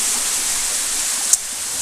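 A waterfall pours steadily close by, a constant broadband rush of falling water with one brief sharp click near the end.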